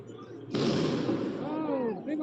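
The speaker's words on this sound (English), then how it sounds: "Oh, big old firework on that side." A big firework bursts at a street protest, a sudden loud blast followed by a crackling, fizzing tail, with a voice talking over it.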